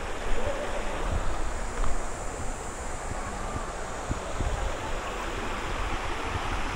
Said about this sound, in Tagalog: Ito yung ilog nila dito sa may Camp Gilmore.